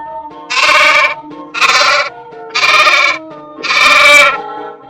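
Domestic sheep bleating four times in a steady series of loud, wavering calls, each lasting about half a second with short gaps between, close and clear with no voices.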